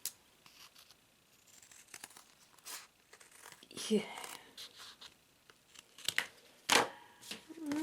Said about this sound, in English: So I am going to cut it in half